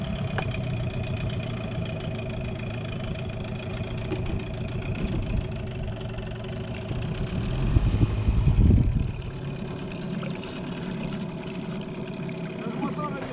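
An outboard motor on a fishing boat hums steadily at idle, with a brief louder surge midway before settling back, while people talk over it.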